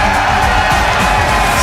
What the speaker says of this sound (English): A standing ovation, I'd say, from the CLG fans in the crowd